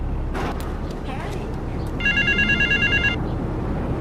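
A telephone rings in Grand Theft Auto 3, a bright electronic trilling burst lasting about a second over a busy background of game ambience and low rumble.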